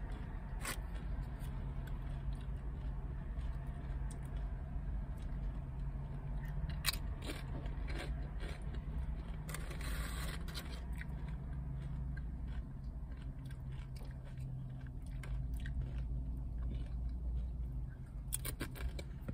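Crunchy Taco Bell chips being eaten inside a parked car, with close, crisp bites and chewing crunches breaking out irregularly over a steady low in-car rumble, no talking.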